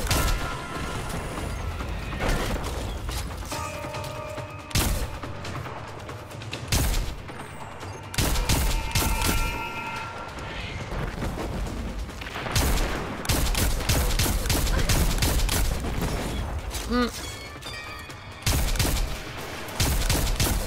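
Enemy gunfire in the video game Destiny 2: Shadowkeep, with repeated bursts of shots and clanking impacts coming in irregular clusters, loud and close, with no talk.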